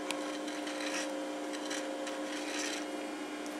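A washer's edge is chamfered with a tool, producing a quiet, steady rubbing and scraping with a faint constant hum beneath and short rhythmic strokes.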